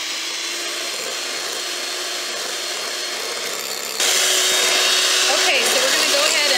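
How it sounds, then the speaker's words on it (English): An electric mixer whips egg whites toward stiff peaks for macarons, a steady motor whir that grows louder and harsher partway through as the beaters work the bowl. "now I'm going to keep mixing until the egg whites form a stiff peak"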